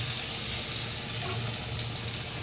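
Fried potatoes tipped into a spice paste frying in oil in a pan: a soft, steady sizzle and crackle that stays constant throughout, with no voices.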